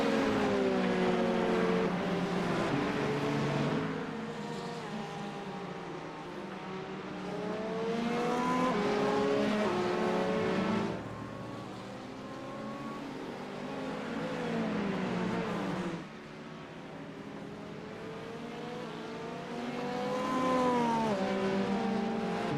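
Engines of the Red Kiwi LMP2 and the WTF Racing 24 car leaving the pits at the 24 Hours of Daytona whine and rise in pitch as they accelerate, steady and fairly loud, shifting gears in waves.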